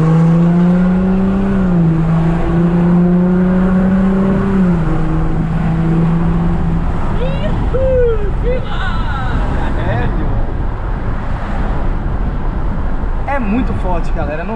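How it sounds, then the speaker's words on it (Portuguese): A Volkswagen Amarok V6 pickup engine revs hard and climbs in pitch, dropping briefly with each gear change as it accelerates, while people talk excitedly over the roar. "A cada marcha que vai passando, o carro empurra de novo."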